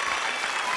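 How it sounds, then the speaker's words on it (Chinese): Children applaud themselves during a kids' science show after a vitamin C experiment, a brief, dense burst of steady clapping close by. "我们为自己鼓鼓掌"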